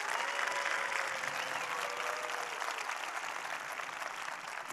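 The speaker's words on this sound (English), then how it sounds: "give a big round of applause to all of our sponsors here this week" A keynote audience at a large conference applauds its sponsors with loud, sustained clapping from a big crowd that fills the hall and fades only slightly.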